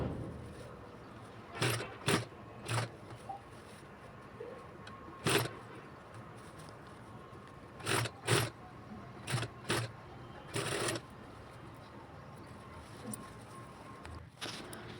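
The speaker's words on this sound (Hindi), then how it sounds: "अब वही सिलाई हम मशीन से लगा लेंगे" Sewing machine stitching the pieces of a designer party-wear baby frock for a one-to-two-year-old, heard as short separate bursts of machine running with quiet pauses between them.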